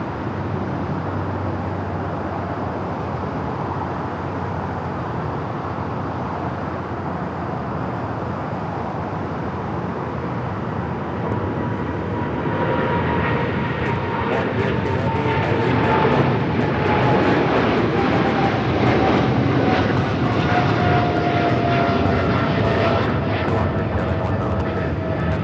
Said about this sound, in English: Operated by Polar Air Cargo 718 taking off to Cincinnati on the 777 freighter.